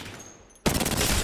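Automatic fire from a light or submachine gun in Apex Legends, a sudden loud burst of rapid shots after a quiet moment, sustained to the end.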